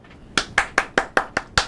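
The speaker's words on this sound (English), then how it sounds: "Do I get applause?" Seven sharp hand claps ring out in a quick, even rhythm, close and crisp, with no voices.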